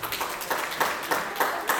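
An audience at a community gathering claps in a steady rhythm, the even bursts of applause repeating without any voices over them.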